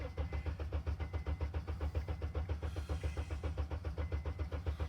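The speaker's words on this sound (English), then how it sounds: "I'm going to crank the engine, throttle down" An engine cranks steadily on the starter with the throttle closed during a compression test, a rapid, even chugging rhythm of regular compression pulses running the full length without any talk.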